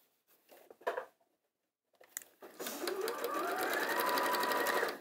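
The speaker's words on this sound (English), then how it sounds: "And we're going to sew all the way around the top." A sewing machine stitches around the top of a fabric bag. A few short handling taps come first, then after a pause the motor starts and runs in a steady, close, rapid hum that climbs slightly as it speeds up.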